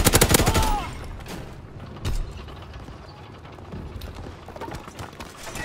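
Bursts of gunfire crack out in the World War II shooter Call of Duty WWII, a loud rapid volley up front, then scattered single shots and mechanical clatter with faint voices underneath.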